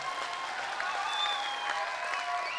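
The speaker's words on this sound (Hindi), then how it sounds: "मैं चाहता हूं एक बार पूरा मेवाड़ दोनों हाथ खड़े करके एक बार तालियों से मुझे आदेश दे" A seated audience at a Maharana Pratap birth-anniversary gathering in Mewar gives steady, dense applause, many hands clapping at an even level throughout with a faint murmur of voices underneath.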